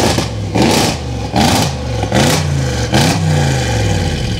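An Audi RS6 Stage 2 engine revs repeatedly, loud close bursts rising and falling in a regular rhythm of about five pulls, with a deep rumbling burble between them and no talk.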